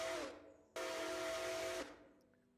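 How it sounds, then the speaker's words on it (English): Steam whistle of locomotive 765 in a train video game, two long loud chime blasts with a short gap between, tonal and hissing, fading out at the end. "That is 765's whistle, by the way."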